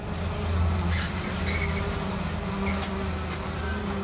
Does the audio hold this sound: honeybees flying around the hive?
yes